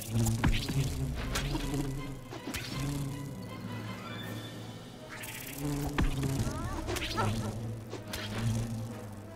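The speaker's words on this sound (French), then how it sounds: "Ah, on a un bourdonnement, donc ça va être la guerre." Insect buzzing in the survival video game Smalland, a loud, close, droning hum that persists throughout with occasional sharp impacts mixed in.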